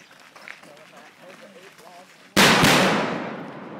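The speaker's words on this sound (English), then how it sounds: "we continue to move up the road here, and we hear explosions" Quiet background with faint movement, then a sudden loud blast bursts out and slowly rolls away, a single close explosion during a patrol training scenario on a road.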